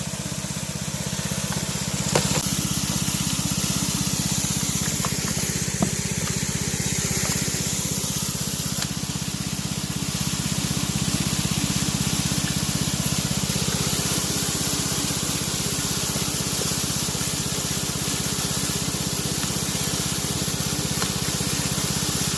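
A highbanker washes crushed high-grade ore and oxidized gold-bearing gravels, giving a continuous gushing spray of water over a steady pump or engine hum, moderately close and unbroken, with no speech.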